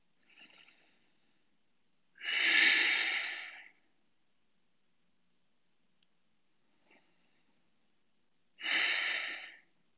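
During a yoga and meditation session, a person takes two slow, deep breaths close up, each a faint inhale followed by a long, loud, airy exhale, with quiet pauses between.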